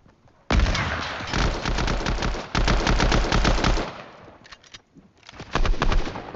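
AUG rifle fire in a video game: loud, rapid automatic bursts, with short pauses between strings of shots and a last burst near the end.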